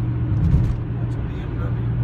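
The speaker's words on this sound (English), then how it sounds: "That's a BMW." A BMW car drives past near homes along Indianapolis's I-465, a low engine and tyre rumble that swells briefly and then fades, with a voice talking over it.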